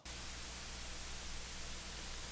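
Steady analog-style noise from a Waves CLA-3A compressor plugin with its analog switch on: constant hiss across the whole range with a low bottom-end hum, unchanging and fairly quiet, with no other sound.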